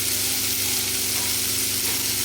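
Green tomatoes sautéing in a pan for chutney, a loud, steady, close sizzle of frying that runs without a break and with no talk.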